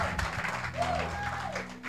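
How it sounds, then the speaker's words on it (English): A church congregation gives its workers a round of applause, a moderate, continuous patter of clapping with faint background voices. "Please give them a round of applause as they take their seats one more time"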